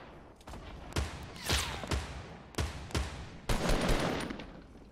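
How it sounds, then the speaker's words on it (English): Gunfire in a Fortnite match, heard as several sharp shots and short bursts spread across a few seconds over a steady game background, with no voices. "you're both shooting at him"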